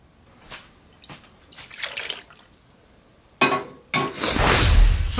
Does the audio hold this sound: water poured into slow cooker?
yes